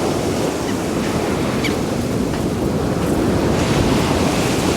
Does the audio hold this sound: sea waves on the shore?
yes